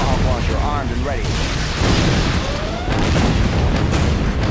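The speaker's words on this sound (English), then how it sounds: "Tomahawk launcher armed and ready." Booming launch blasts from a Tomahawk missile launcher in the real-time strategy game Command & Conquer Generals Zero Hour, loud and continuous with repeated explosive bursts under overlapping game voice lines.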